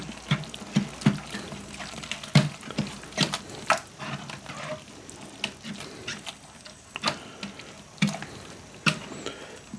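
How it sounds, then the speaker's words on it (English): Bourbon grain mash being stirred in hot water, with repeated sharp scrapes and wet sloshing knocks at an irregular rhythm, close and fairly loud, with no talking. "You have to stir the heck out of it, get it all."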